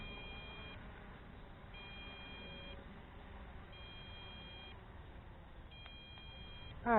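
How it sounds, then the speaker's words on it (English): A JJRC X8 GPS brushless quadcopter drone sounds a repeating electronic alarm tone as it descends near the end of its flight, a steady beeping pattern in short bursts over a low wind-like background. "alarm tone."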